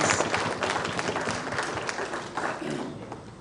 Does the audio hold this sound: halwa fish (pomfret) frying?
no